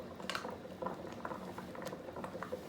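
Cube steaks dredged in flour simmer in a pan, giving a steady low bubbling and light popping patter close by, with no talk over it.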